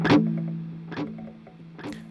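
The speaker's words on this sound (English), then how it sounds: "High gain distortion with a delay set on the beat of the song." An electric guitar with high gain distortion and beat-synced delay plays three long sustained notes, each struck note ringing and decaying into repeating echoes.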